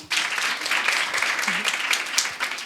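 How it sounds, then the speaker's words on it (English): Audience applause at a live young women's dialogue event: dense, steady clapping from a crowd lasting the whole stretch, fairly loud and close, with a brief voice rising faintly beneath it. "You can give her a round of applause."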